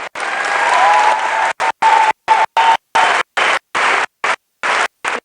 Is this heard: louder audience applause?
yes